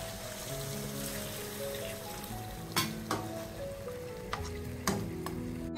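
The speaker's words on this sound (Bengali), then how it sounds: "এখন আমি জল দিয়ে দিচ্ছি।" Fish head curry frying in a pan as water is poured in, a continuous hiss and sizzle with stirring noises and a few sharp clinks of a utensil against the pan.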